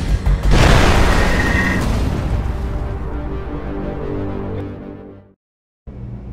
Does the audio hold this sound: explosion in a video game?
yes